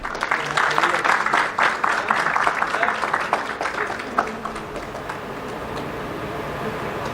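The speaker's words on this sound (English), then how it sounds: "Please welcome Sir with a huge round of applause" Audience applause fills a hall at an inauguration ceremony for a BAJA SAEINDIA program at KIET Group of Institutions, dense loud clapping that gradually fades over several seconds.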